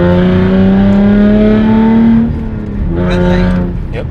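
A modified Hyundai Genesis Coupe 3.8 R-Spec revs hard through a gear with a rising engine note, shifts, then pulls again, loud and close from inside the car.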